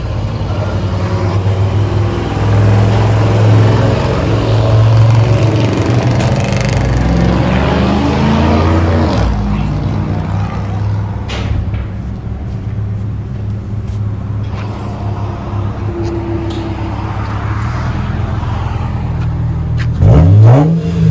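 2011 Acura TL V6 with dual exhaust and muffler delete revving loudly: repeated rising and falling engine revs with a raspy exhaust note, a final sharp blip at the end, and no talk.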